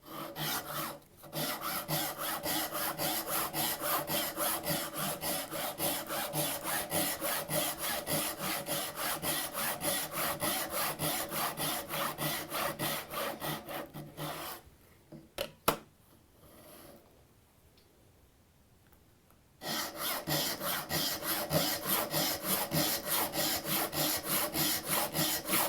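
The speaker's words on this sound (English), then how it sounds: "I've marked this up to cut a tenon. So the saw grabs the guide" Hand saw cutting a wooden tenon cheek against a magnetic 90-degree guide, with steady rhythmic rasping strokes up close, pausing briefly near the middle before resuming.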